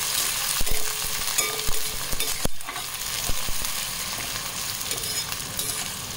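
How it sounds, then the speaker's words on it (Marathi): Spring onion greens and peanuts being sautéed for Khandeshi eggplant bharit, a steady close sizzle with scraping stirs and a few sharp utensil knocks throughout. "छान परतू द्यायची आहे पात।"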